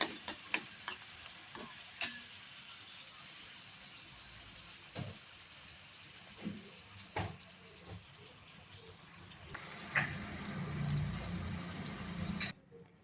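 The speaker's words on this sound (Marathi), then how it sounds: "याप्रमाणे आपण सर्व पॅटीस तळून घेऊ" Urad papad patties fry in hot oil with a faint, quiet sizzle, punctuated by occasional clinks and taps of a utensil against the pan, and a brief louder bubbling swell near the end.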